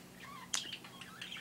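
Small birds chirp outside in quick, faint bursts: one sharp call stands out, followed by a scatter of lighter tweets and short trills over a soft background hum.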